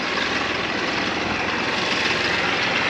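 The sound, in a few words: tractor engine running while discing a food plot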